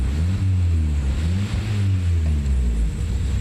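A Toyota 22RE four-cylinder engine runs close by with a loud, throaty idle, its pitch rising and falling as it is revved in gentle swells.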